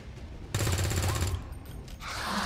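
Burst of video game gunfire erupting suddenly and loud, a dense rapid volley lasting about a second, then easing into a noisy rush of game sound.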